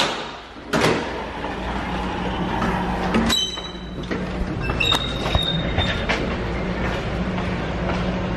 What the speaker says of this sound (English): We are on the monorail.